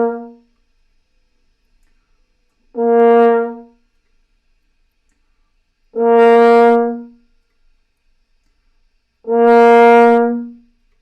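Brass warm-up poo exercise blowing through closed lips, three sustained buzzing tones of about a second each, separated by pauses and all at the same pitch, loud and close with no talking.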